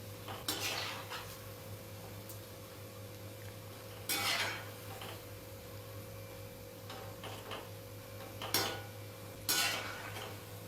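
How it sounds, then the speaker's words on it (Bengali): Fritters are turned while they fry in oil in a wok, giving a few faint, scattered clinks of a utensil against the pan over a steady low background hiss. "এভাবে আমি উল্টে পাল্টে বড়াগুলো ভেজে নেব"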